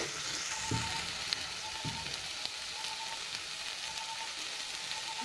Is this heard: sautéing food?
yes